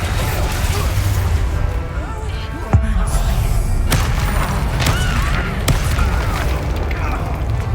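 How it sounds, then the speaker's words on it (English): An explosion spell blast in the video game Hogwarts Legacy, a sharp booming burst amid dense, loud combat effects and rumbling, with further thuds and impacts following. "Explosion!"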